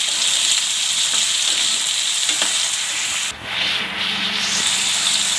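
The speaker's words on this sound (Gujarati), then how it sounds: "તો આપણે આ બટેટાને 2 મિનિટ જેવું તેલમાં સડવા દેવું." Potatoes fry in hot oil in a pan, giving a dense, steady close-up sizzle with a brief scraping stir partway through.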